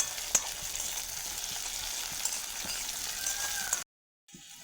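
Chopped tomato fries with onion and chili in a pan, giving a close, steady, dense sizzle that cuts off abruptly near the end.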